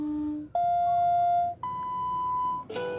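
A Samsung Galaxy Tab S6 Lite plays test tones through its bottom speaker, a short run of clear steady beeps that change pitch, ending with a brief noisy burst.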